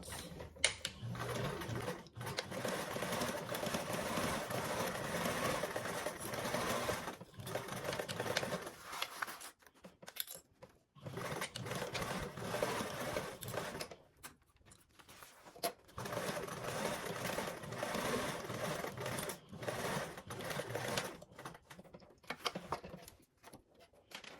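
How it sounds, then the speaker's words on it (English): A sewing machine runs a 3/8 inch seam, sounding as long stretches of steady, close, whirring stitching broken by brief stops and restarts. "Now we're going to go ahead and sew these with a 3/8 seam allowance."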